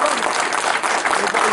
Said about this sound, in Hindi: एक बार यादव मैडम के लिए तालियां